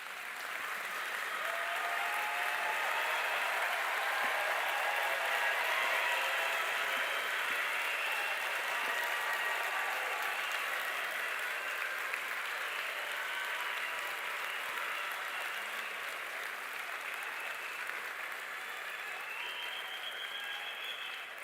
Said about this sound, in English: it's appropriate for you to give a hearty round of applause to your loved ones